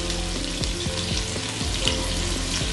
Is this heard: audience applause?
no